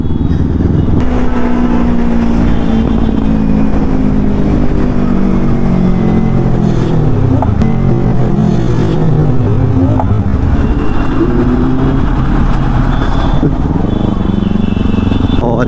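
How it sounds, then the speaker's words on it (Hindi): A Yamaha R15 motorcycle's exhaust revs continuously and loudly on a public road, the engine note rising and falling throughout against steady traffic and wind noise. "अभी मैं प्रॉपर मज़े ले रहा हूँ अपने एग्जॉस्ट की"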